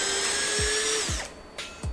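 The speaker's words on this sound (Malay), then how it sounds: "Okey, sekarang saya ingin menggerudi kayu." A Dagmara cordless drill with a metal chuck bores into wood, its motor whining steadily before winding down, with a few low thumps as the bit works through the timber, no voices.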